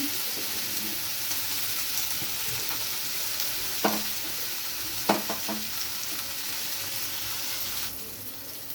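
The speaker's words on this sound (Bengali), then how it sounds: "শিম লাল লাল করে ভাজা হয়ে গেছে" Flat beans fry in oil in a home kitchen with a continuous close sizzle. A few sharp clicks and scrapes of stirring land around the middle, and the hiss eases slightly near the end.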